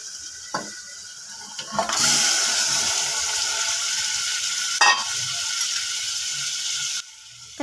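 Mutton pieces frying in a pan with ginger garlic paste, giving a steady loud sizzle with a sharp crackling burst as the meat goes in, then continuous hissing over slow heat, with no talking.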